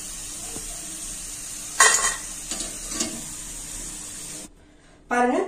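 Potato finger chips sizzle and fry in hot oil while a utensil stirs them in a pan, giving a steady frying hiss broken by a few scraping stirs, close and fairly faint.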